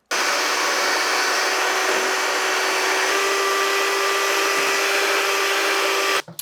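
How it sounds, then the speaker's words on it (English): An electric hand mixer beats six egg whites toward stiff peaks in a bowl, giving a loud, steady whirring drone that runs unbroken for several seconds before cutting off at the end. "we're going to beat the egg whites to a stiff peak"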